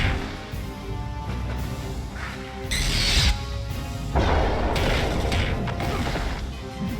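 Cannon firing in the X-Men: Next Dimension video game, with heavy mechanical clanks and a couple of loud smashing booms, one around the middle and a longer crash later, over a dense backdrop of game machinery.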